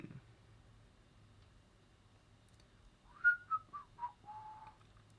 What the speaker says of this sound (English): I'm whistling and twiddling my thumbs.